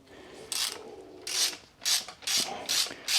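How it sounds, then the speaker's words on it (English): Spanner tool being worked to release spring tension on a Harley Davidson Softail Sport Glide fork, giving a series of short, close ratcheting rasps in uneven bursts. "now we release the tension of the spanner tool"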